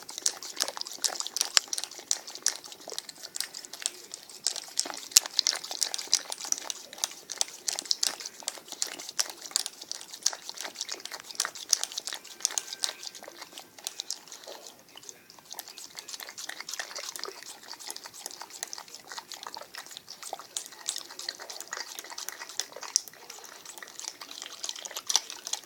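A dog laps water from a bowl, a long run of quick, wet, irregular licks and splashes close by, continuing steadily with brief pauses and no talk.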